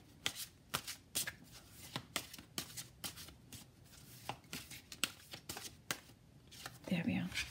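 Tarot cards are riffled and shuffled by hand close up, a series of crisp slapping flicks in an irregular rhythm, with a brief rustle of the deck near the end and no speech over it.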